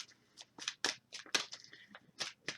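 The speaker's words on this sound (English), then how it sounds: "And we'll give it a good shuffle." Board game cards for Kingdom Death Monster being shuffled by hand, a quiet close series of crisp riffling and snapping bursts in an uneven rhythm, with no talking.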